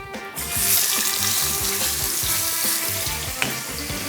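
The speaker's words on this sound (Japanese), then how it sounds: "炒めちゃおう" Ground chicken and chopped Chinese cabbage stir-frying in a hot pan, a loud, steady sizzle with a rhythmic scrape of a spatula tossing the food, and no talking.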